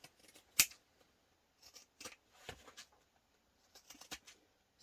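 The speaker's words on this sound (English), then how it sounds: "I like to take pinking shears and go around the curves." Pinking shears snip through fabric around curves in a series of sharp, close, crisp cuts, about a dozen irregular chomps with short pauses between them.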